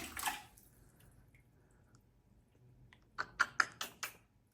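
A homemade fishing lure prototype, weighted and fitted with a hook, plops into water with one splash, then after a quiet stretch several quick sharp splashes follow in a row, close by, with no talking.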